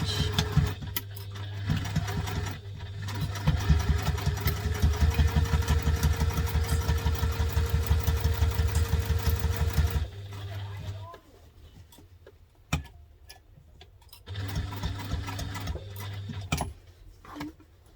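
A sewing machine runs a construction-length stitch along a bag seam on a Peregrina Crosspack, a fast, even mechanical chatter lasting about ten seconds, stopping, then a shorter burst later, with brief quiet speech in the pauses.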